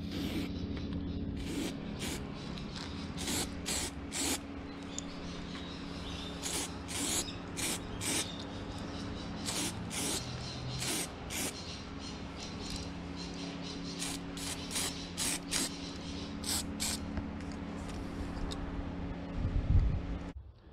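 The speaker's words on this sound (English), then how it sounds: "You can put enough spray in it." Spray undercoat hisses from a can onto a 140mm wakebait fishing lure in repeated short bursts with brief pauses, steady and close over a constant low background hum.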